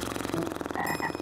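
A frog croaks repeatedly in a rapid pulsing rhythm, close and fairly loud, with a few higher chirping tones layered in and no speech.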